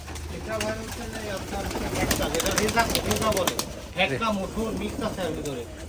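Pigeons gather to be fed on a farm, with soft cooing and a flurry of wing flaps over near, steady chatter from people talking throughout.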